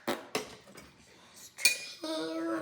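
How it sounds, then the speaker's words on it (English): A knife taps a measuring cup of flour a few times in a kitchen, making sharp metallic clinks followed by a brief ringing, faint and close. "Tap it with a knife"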